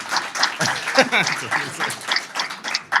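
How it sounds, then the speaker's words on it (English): A small audience claps in response to a host's question, scattered uneven clapping mixed with voices and some chatter throughout. "Clap if you think Ray or TR is still a bad man."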